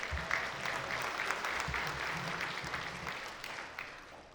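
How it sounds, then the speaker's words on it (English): An audience applauds steadily at a hockey hall of fame induction ceremony. The clapping is dense and sustained, heard from a moderate distance in a large room. "You can clap, go ahead."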